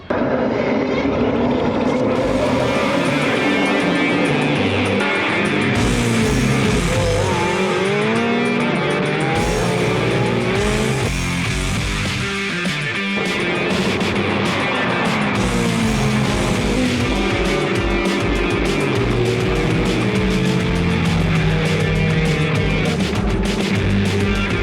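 Ferrari Challenge cars race at Monza in the Trofeo Pirelli series, their engines roaring loudly and continuously as cars scream past. Gear changes and occasional tire squeal cut through the din.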